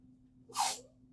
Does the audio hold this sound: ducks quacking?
no